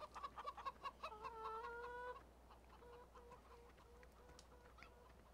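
Chickens in Farming Simulator 17 on the Berezovka map cluck in short repeated bursts, with a drawn-out squawk in the middle. The calls are faint and sit over a low steady hum.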